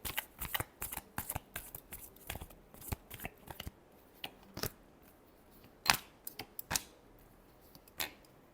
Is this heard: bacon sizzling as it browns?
no